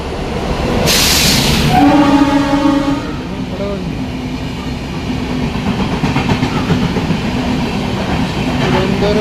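The Thiruvananthapuram Central–Lokmanya Tilak Netravati Express passes Irinjalakuda railway station: a loud horn blast early on, then a steady close rumble and rhythmic clatter of coaches rolling by.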